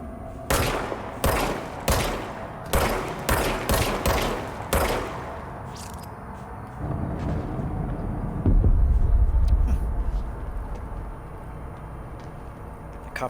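A gun with unlimited ammo fires in Control, seven or eight loud evenly spaced shots followed by a deep rumbling blast that swells and fades.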